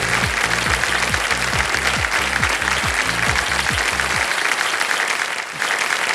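Studio audience on the KBC (Kaun Banega Crorepati) Season 16 game show breaks into loud, dense applause that holds steady for about four seconds, with rhythmic low drum beats pulsing beneath, before the music stops and the clapping carries on alone.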